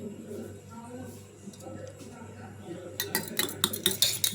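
Eggs are beaten with a utensil in a bowl, starting as soft background ambience with a low hum and then breaking into quick, sharp rhythmic clinks of metal against the bowl in the final seconds.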